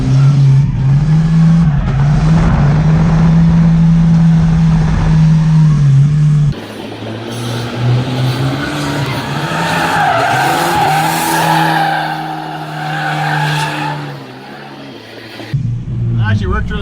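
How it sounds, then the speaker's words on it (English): A Volvo 940 slides through a corner in a drift, its engine roaring under load and tires squealing loudly for several seconds before the sound eases off near the end. "So we're trying to drift this corner."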